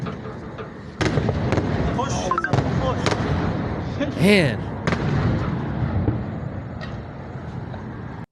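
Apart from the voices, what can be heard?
missile explosions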